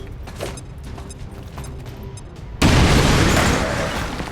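A grenade explosion in a video game, a sudden loud broadband blast that booms and rumbles on for a couple of seconds after quieter clicky game sounds.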